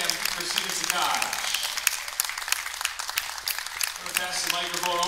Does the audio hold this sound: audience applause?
yes